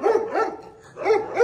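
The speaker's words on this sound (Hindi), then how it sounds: "इतने स्ट्रीट डॉग्स हैं यहाँ पे, भौंक रहे हैं इजीली।" Street dogs bark outdoors, a few sharp close barks in two quick bursts separated by a brief pause.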